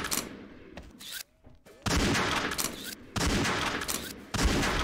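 Bursts of sniper and rifle fire from the shooter game XSHOT, deathmatch mode, come in sharp loud volleys with short quiet gaps between them.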